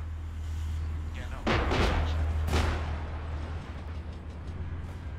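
An aircraft gun run in ArmA 3 rips through as two sharp bursts of strafing fire over a constant low engine rumble, the rattling impacts loud and close, with speech present alongside.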